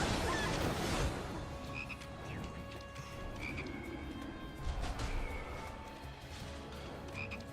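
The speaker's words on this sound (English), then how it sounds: "Now we need to wait for Cloud to no longer be a frog" Frog croaking from Final Fantasy VII Rebirth gameplay, several short chirping croaks spaced across a low, busy game soundscape, faint and set under background ambience.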